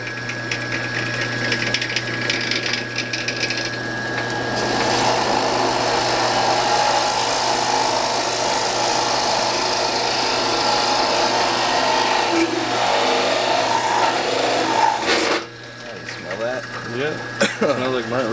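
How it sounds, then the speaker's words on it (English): Drill press boring into a rubber hockey puck clamped in a makeshift holder, a continuous grinding, whirring cut with mechanical rattle that stops abruptly near the end, followed by brief handling noises. "we got on the drill press, and we got our ghetto puck holder. Let's see how it drills out."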